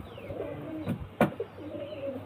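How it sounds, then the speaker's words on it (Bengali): A female pigeon coos close by in a few soft, low calls, with a sharper burst near the middle, over a quiet background of other birds. "এটা মাদা পায়রা"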